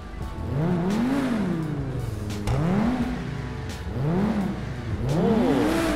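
A Pegassi Weaponized Ignus supercar in GTA Online revs hard four times, each rising engine sweep climbing and then dropping, loud and close.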